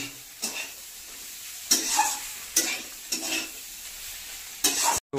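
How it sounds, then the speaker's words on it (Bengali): Egg fries in a pan and is stirred, with bursts of scraping and sizzling every second or so over a quieter background hiss, close and moderately loud. "ওটা হচ্ছে ডিম ভাজা আর ইয়ে ভাজা"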